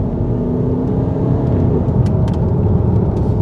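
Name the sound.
Range Rover Evoque accelerating hard in third gear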